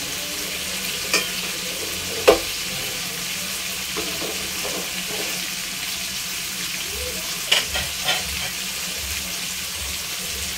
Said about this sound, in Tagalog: Habang ginigisa natin to